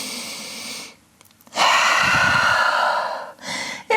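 A loud, close, drawn-out breath taken during a yoga session in downward dog pose, rushing in for over a second after a short pause, then easing off, with another breath starting near the end.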